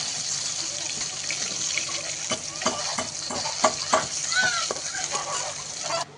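Potatoes fry in oil in a wok, giving a steady sizzle broken by repeated scraping and stirring knocks, while a voice talks faintly in the background.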